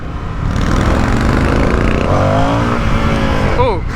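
A 2023 Indian FTR R Carbon motorcycle revs hard and steadily at close range, the engine note holding high before dropping and rising again near the end, with a voice talking over it.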